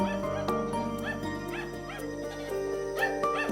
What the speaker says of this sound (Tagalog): Mayroong aso kumakagat sa atin.